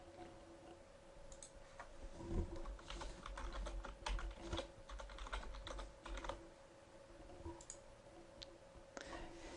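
Fingers type steadily on a computer keyboard, producing a fast run of soft, close clicking keystrokes over a faint background hum, with a few louder taps mixed in.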